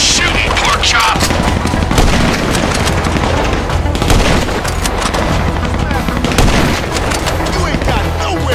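Constant loud gunfire and booms fill the whole stretch of a GTA V shootout, dense and continuous, with game sounds layered over it.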